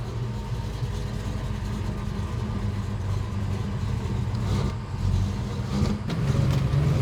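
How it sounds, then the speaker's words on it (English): A 1969 Chevelle's 383 stroker V8 with a manual transmission runs steadily, with a deep, continuous engine rumble and a couple of brief swells in revs partway through. No one speaks over it. "'69 Chevelle with a manual transmission, 383 stroker."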